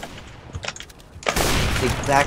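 An AK-47 fires in the video game CS:GO, starting with a few scattered shots and then breaking into a loud, dense burst of rapid gunfire.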